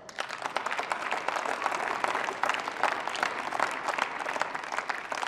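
Applause in the German Bundestag during a debate on Hartz IV and social assistance sanctions, many hands clapping at once in a dense, steady burst that carries on evenly from start to finish, with no talk over it.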